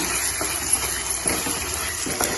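Tamarind extract poured into a cooking pan while making a drumstick pulp thokku, giving a steady, close gushing liquid sound with a few soft splashes, no voices.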